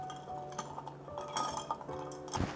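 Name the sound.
stirring a Negroni Sbagliato with gin in a glass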